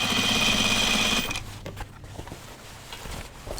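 A sewing machine stitches through heavy jeans fabric in a loud, fast whirring run that stops after about a second, followed by quieter handling clicks and rustles.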